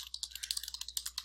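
Quick, evenly spaced clicks of typing on a computer keyboard, close and clear, with no voices.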